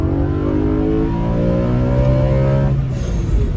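A BMW M3 E92's naturally aspirated engine revs toward 8300 rpm, a loud, close, sustained rising engine note heard from inside the moving car.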